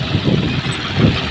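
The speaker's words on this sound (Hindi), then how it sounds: "ट्रैक्टर को आगे पीछे करना है और घुमाएंगे" A tractor engine runs steadily in a farm field, a loud, close, continuous rumble that swells slightly twice, with no voices.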